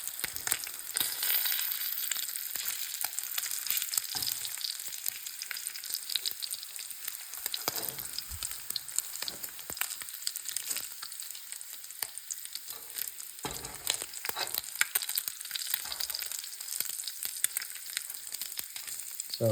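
Strips of bacon fry in a pan with a steady, bright, crackling sizzle and frequent small pops, continuous and close, with no talking over it.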